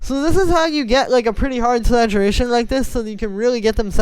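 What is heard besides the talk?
No everyday noises stand out.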